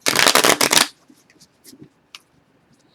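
Tarot cards being shuffled, a fast riffling burst of papery flicks lasting just under a second, close and loud, followed by quiet faint handling taps and card slides.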